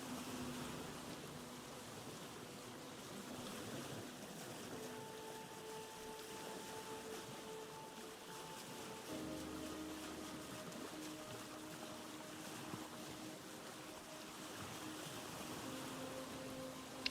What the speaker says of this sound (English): I do like the sound of the water though